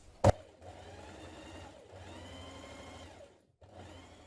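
A sewing machine stitching a dress seam near a pocket panel, close and quiet, running in steady whirring bursts with a sharp click at the start and a brief pause near the end.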